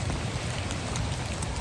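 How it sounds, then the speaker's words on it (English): Steady rain falls in a cemetery, a dense, even hiss of drops hitting the ground with no pauses or voices. "Not today, it's raining"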